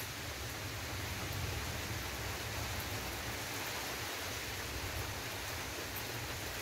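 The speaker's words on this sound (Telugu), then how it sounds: "వర్షం పడుతుందండి." Steady, even rain falls throughout, a dense, unbroken hiss of drops on surfaces with no change in intensity. No voices are heard.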